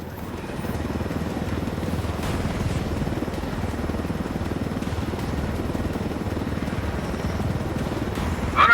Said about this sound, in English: I told Griffin I could figure out how to fly this thing. Qualify for planes. But not choppers?